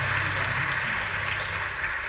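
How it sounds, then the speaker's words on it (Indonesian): Steady applause from a seated audience at a university talk at Gajah Mada, a dense wash of clapping that holds at an even level without a break. "boleh tepuk tangan buat Gajah Mada"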